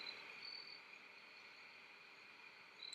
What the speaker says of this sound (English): So now all you hear are the crickets.